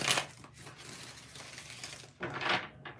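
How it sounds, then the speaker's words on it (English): Tarot cards shuffled by hand, a crisp riffling burst at the start, a steady soft shuffling rustle through the middle, and a second brisk riffle near the end, close and moderately quiet. "Ooh, that was a good shuffle."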